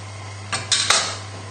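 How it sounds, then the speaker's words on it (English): Pasta being stirred in a pot for spaghetti carbonara gives three quick scraping clinks of the utensil against the metal pot, close and brief, over a low steady hum. "we'll just give our pasta a little stir now"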